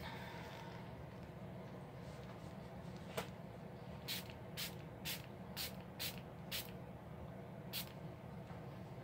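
Rapid series of short, hissing spritzes from a spray bottle wetting a cotton pad, about seven pumps in quick rhythm after a single click, close and fairly quiet.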